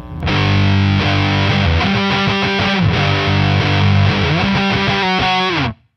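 A heavily distorted electric guitar plays a riff in a mid-1990s rock style, loud and dense with effects, running steadily for about six seconds before cutting off abruptly.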